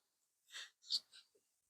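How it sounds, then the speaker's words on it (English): A single quiet sneeze, a short sharp breathy burst followed by a small snuffle. "cats be making people sneeze"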